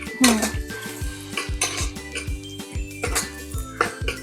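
Onions being stirred in a pan for soya chunks pulav, with a regular rhythm of metal spoon scrapes and clanks against the pan, each stroke close and clear, with only faint sizzling beneath.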